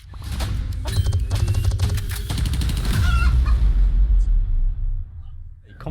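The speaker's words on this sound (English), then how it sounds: "Time to hit some chickens." Chickens in a video game aim challenge at a live esports event cluck and squawk in a busy flurry, layered with crowd noise and people talking over them.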